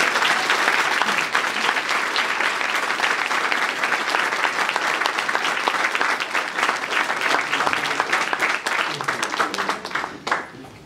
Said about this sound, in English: give Professor Wekker a warm round of applause